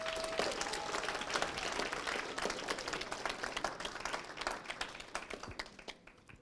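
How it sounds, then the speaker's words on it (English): Sustained applause and clapping from an audience at an African American History Challenge Bowl finals, congratulating competition finalists; dense, steady clapping fills the whole stretch, fading slightly toward the end. "Give them another round of applause."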